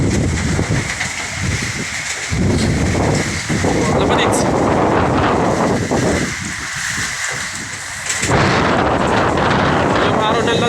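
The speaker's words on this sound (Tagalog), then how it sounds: "Halos pumipito yung yung hangin. Sumisipol." Strong, gusty typhoon wind roars steadily against the microphone, with a high whistling tone running through it and rain hiss underneath.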